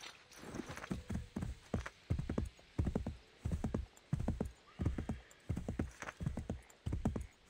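Rhythmic clip-clop of horse hooves at a steady trot in Assassin's Creed 3 Remastered, loud and close, with no one talking.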